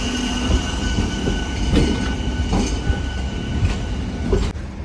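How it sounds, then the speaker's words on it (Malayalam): A MEMU electric multiple-unit train pulls away from Walayar railway station, a steady rolling rumble with periodic wheel clacks over rail joints, close and continuous before dropping off sharply at the end. "അപ്പോൾ നമ്മുടെ മെമു പോയിരിക്കുകയാണ്."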